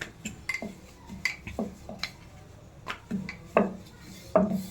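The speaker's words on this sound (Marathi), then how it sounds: "अशी दुसरी चपाती पण लाटून घ्यायची मस्त" Chapati dough being rolled out with a rolling pin for a Maharashtrian daal-phal dish, giving repeated close wooden knocks and scraping rubs in an uneven rhythm, with no talk.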